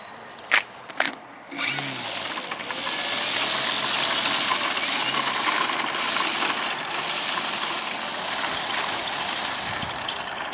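An electric General Hobby Extra 330SC model airplane motor spins up during a ground taxi test, a steady high-pitched whine close by that starts after a few light clicks and holds for several seconds, without talk.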